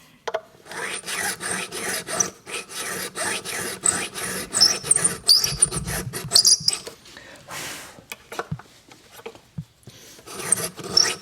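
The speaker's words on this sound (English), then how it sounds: "We get these nut files from a place called Auto Fray, and they're sized in tenths of a millimeter." A small nut file rasps back and forth in a guitar nut slot during luthier work, giving repeated close scraping strokes in uneven bursts with short pauses between.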